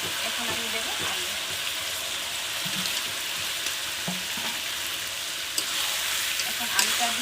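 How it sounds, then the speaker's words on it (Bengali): Potatoes frying with chicken curry in a pan, a village-style chicken curry; a steady, close sizzle runs throughout with a few soft stirring knocks and faint background voices. "বন্ধুরা এখন আমি দেবো আলু।"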